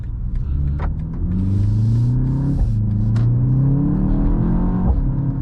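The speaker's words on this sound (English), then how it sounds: "definitely some fun sounds coming out of this engine here" A 2024 BMW X2 M35i engine revs and accelerates with rising pitch, loud and close, shifting gears twice as the steady motor rumble climbs again.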